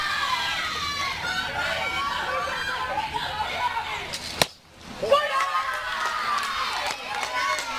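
A crowd of fans cheers and chatters loudly at a college softball game between New Jersey and Rhode Island, with a brief lull midway before the noise swells again.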